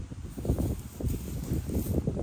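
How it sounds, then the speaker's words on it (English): Rough, gusty wind blowing outdoors in a cemetery, a steady low rumble of buffeting against the microphone with slight surges across the whole stretch. "The wind is a little rough, however."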